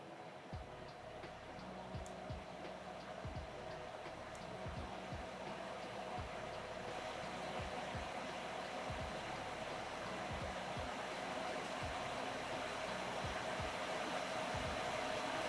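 LLano V11 Pro laptop cooler with its fans running at high speed, a soft, steady airy whir that swells slightly over time, with faint repeated low ticks underneath.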